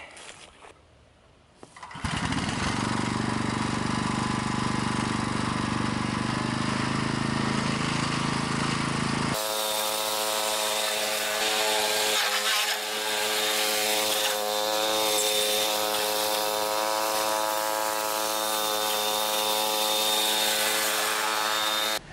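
The engine of a DR field and brush cutter runs loudly and steadily after a short start, a continuous droning motor close by with a slight shift in pitch partway through.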